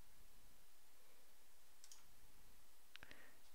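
A couple of faint, sharp computer mouse clicks while saving a document, isolated over a steady low hiss of background noise.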